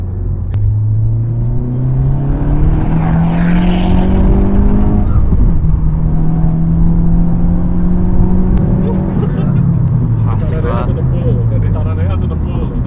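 A Honda Civic Type R FK8 with a stage 2 EP tune revs hard through the mid range, its loud engine note climbing in pitch in repeated sweeps, with a deep rumble heard from close by.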